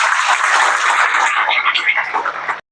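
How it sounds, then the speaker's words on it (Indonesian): An audience at a university management programme event applauds the MiriCan team. The clapping is loud and dense, sustained for over two seconds, then cuts off abruptly. "sekali lagi kita beri tepuk tangan kepada Mirikan PAS"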